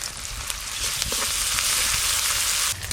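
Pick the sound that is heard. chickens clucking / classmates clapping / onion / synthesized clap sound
onion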